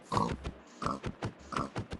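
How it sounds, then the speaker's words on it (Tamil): Pig in the video game Minecraft grunting and oinking in three short bursts spaced about half a second apart, fairly close and clear, with no talk over it. "இந்த பண்ணி இப்படி முன்னாடி வந்துகிட்டே இருக்கும்"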